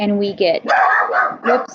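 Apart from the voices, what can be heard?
dog barking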